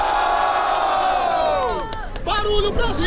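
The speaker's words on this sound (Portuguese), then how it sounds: "Barulho pras rimas do Refel." A big crowd roars and cheers for a freestyle rhyme at the grand final of a Brazilian rap battle. The dense, sustained shouting stays loud throughout, with surging whoops toward the end.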